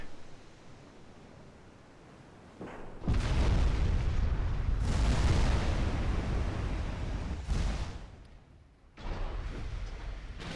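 Heavy battleship guns firing in Ultimate Admiral: Dreadnoughts, with H-44 battleships at sea: several thunderous booms, each followed by a long roaring rumble, coming in separate salvos a few seconds apart with no voices.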